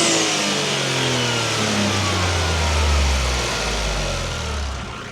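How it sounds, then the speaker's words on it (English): A Toyota GR Corolla fitted with a Forge intake, engine warmed up, revs loudly several times, its pitch sweeping up and back down in smooth rises before easing off near the end. "We'll give you a couple revs."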